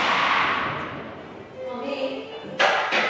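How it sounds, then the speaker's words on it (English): A sharp, booming noon cannon shot cracks out over a murmuring crowd in Zagreb, with a second shorter burst right after. "we'll hopefully see the cannon shot"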